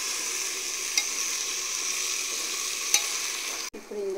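Ridge gourd pieces and lentils frying in a pan, a steady, even sizzle with soft stirring scrapes, close and alone, ending with a brief clatter.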